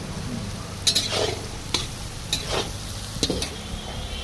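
Cashews and raisins are tossed into frying food in a pan, where a steady sizzle runs under several sharp clinks and scrapes of a ladle stirring against the metal. No voices are present.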